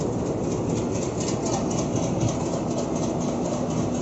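A train pulls into a station with a steady, close rumble and clatter of wheels and engine that stays loud and even throughout.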